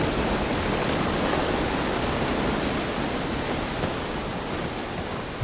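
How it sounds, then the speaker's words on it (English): A waterfall rushes in The Last of Us, a dense, even roar of falling water filling the space continuously and loudly with no break or voices. "Can I go behind the waterfall?"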